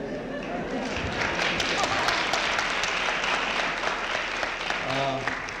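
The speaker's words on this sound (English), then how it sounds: "Why do you clap?" Audience applause at a 1971 public talk in New York, a dense steady wash of many hands clapping throughout, with a voice briefly audible near the end.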